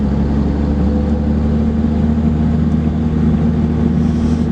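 Heavy truck, likely a lumber hauler, rolling over a high mountain pass in Wyoming's Sierra Madre range, a steady low engine and road rumble held at constant loudness throughout with no voices.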